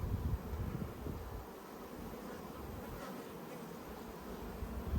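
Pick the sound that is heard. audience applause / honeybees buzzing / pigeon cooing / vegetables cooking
honeybees buzzing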